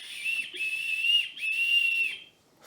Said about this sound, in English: blew 3 times upon her whistle